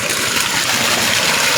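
Irrigation water flows on a farm in San Esteban, Rizal, making a steady, loud, close rushing gush that fills the short stretch without a break.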